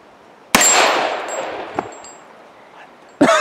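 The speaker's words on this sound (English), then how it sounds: "It sounds like a ricochet." Sharp metallic clang of a gunshot downrange with a ringing, ricochet-like tail, heard through electronic hearing protection at a shooting range, followed by a faint tick and another loud shot at the end.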